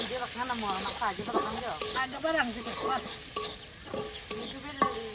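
Chilies and spices fry in oil in a village kitchen cooking tribal Garo dishes, giving a steady close sizzle and hiss, partly under a person speaking.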